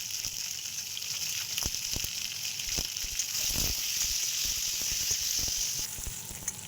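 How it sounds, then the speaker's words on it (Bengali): Chunks of taro and potato fry in a wok with salt and turmeric, giving a continuous close sizzle with scattered sharp crackles and spatula clicks, steady throughout with no voices. "তারপর গাটি কচু আর আলুগুলোকে একসাথে কড়াইতে দিয়ে তার উপর নুন আর হলুদ দিয়ে ভালো করে ভেজে নিতে হবে।"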